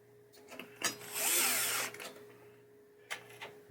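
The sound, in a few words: power drill removing a screw from pinball playfield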